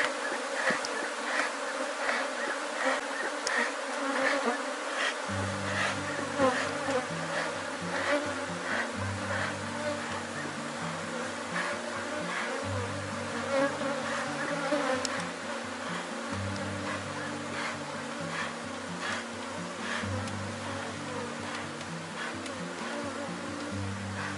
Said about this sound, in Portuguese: quando você abre ele, ó, voa a abelha para todo lado